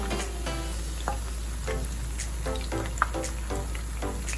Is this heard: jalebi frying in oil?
yes